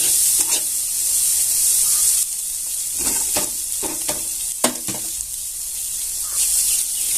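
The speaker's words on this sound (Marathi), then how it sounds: "आपण फक्त खालीवर करत राहायची खाली दाबू द्यायची छान अशी परतून घ्यायची" Okra seeds being stir-fried in a pan for a rural Marathi-style bhaji, a constant bright hiss of frying broken by several sharp scraping stirs, close and fairly loud, with no talking.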